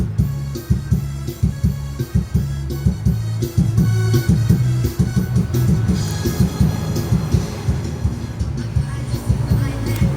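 A steady rhythmic clatter of train wheels over rail joints, repeating clickety-clack beats with a rumbling undertone throughout.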